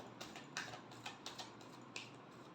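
Tarot cards being shuffled in a final pass, a soft run of quiet papery riffles and flicks with a few sharper card snaps, close and faint against a steady low background hum.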